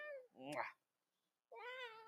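A cat meows twice up close, each call a rising and falling tone with a short silence between, in a quiet indoor space.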